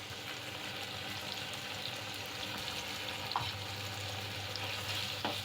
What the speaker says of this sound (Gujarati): ને આને પણ આપણે ટામેટાની અંદર સાતળી લઈશું 2 મિનિટ માટે